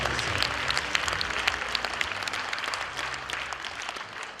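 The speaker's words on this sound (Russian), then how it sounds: "Давайте хлопать сегодня, не переставая." Audience applause at an evening mothers' event and contest, a dense, steady wash of clapping that carries on for the whole stretch with no gaps.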